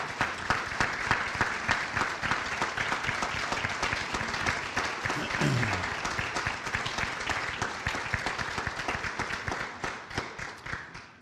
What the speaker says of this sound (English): If you're a member of a Hall of Fame or a Hall of Fame team, please give them a round of applause